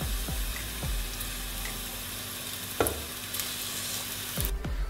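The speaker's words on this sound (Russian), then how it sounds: "Заметили, да, что я сначала отправляю и прожариваю саму шкурку баклажанную." Eggplant skin fries in oil in a pan, giving a close, steady sizzle broken by a few sharp utensil knocks against the pan.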